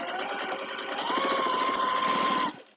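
Sewing machine stitching free-motion quilting around the edges of a quilt block, a steady fast mechanical whir with rapid needle rhythm, close and loud, stopping abruptly near the end.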